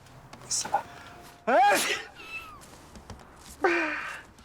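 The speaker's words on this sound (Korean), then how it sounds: "목에 노끈이 묶인 고양이" A cat gives a few short, high meows with pauses between them, close by, while people talk softly in the background.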